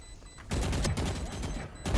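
Sustained rapid gunfire from the Valorant video game starts abruptly and stays loud and dense, close and continuous, with a brief quieter lull near the end before it resumes.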